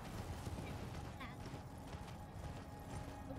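Horse hooves galloping in the video game Elden Ring, a fast, steady clatter of hoofbeats kept low and faint beneath someone talking.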